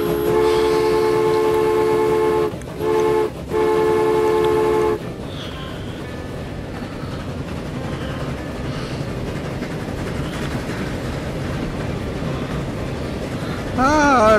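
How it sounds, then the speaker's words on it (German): A train in the video game Transport Fever sounds a sustained horn in broken blasts, then rolls past as a loud steady rumble and clatter, with a short rising tone near the end. "Da kommt wieder der Zug."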